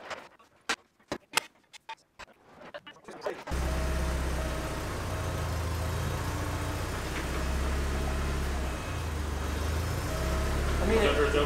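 A Porsche being lowered off jack stands fires up after some clicks and clatter, then settles into a steady, close, rumbling idle while people talk nearby.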